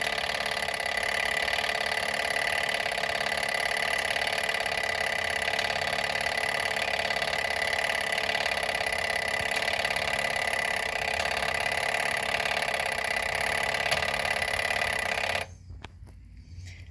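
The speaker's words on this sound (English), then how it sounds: "do a cycle really quick, and you can see the pull station in action. There's the code wheel." A fire alarm pull station's code wheel cycles, driving a steady, loud mechanical ringing or buzzing that holds evenly, then cuts off abruptly near the end, leaving a quiet room.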